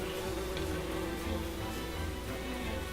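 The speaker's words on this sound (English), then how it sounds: "they are killer bees, which means they're always hostile, always kill me on sight." Killer bees buzz in the Don't Starve: Reign of Giants video game, giving a faint, steady droning hum that holds evenly throughout.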